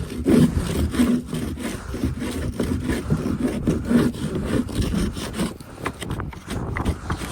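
Built-in plastic scraper working over a surface aboard Jacques Cousteau's boat Moulin a Vent, a steady run of rough, close scraping strokes with no pauses.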